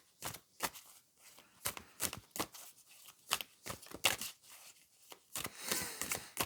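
Tarot cards are shuffled by hand in quick irregular bursts of crisp riffling and snapping, close and fairly soft, with no voice.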